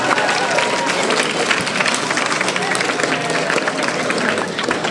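Dense, steady applause from a school audience at a National Blue Ribbon School celebration, broad and sustained clapping with crowd noise filling the whole stretch at close range.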